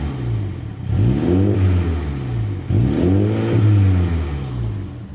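A Mini GP3 engine revs up twice in quick bursts, climbing and then hanging at a capped pitch at its 3000 rpm soft limiter before dropping back, loud and close.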